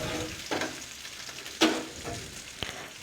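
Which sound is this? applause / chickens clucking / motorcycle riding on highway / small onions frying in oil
small onions frying in oil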